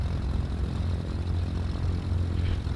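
Both engines of a simulated Cessna 310R idling on the ground, a steady low droning hum that stays even and continuous throughout, moderately loud with no voices.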